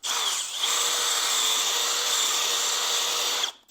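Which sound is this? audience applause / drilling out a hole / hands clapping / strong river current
drilling out a hole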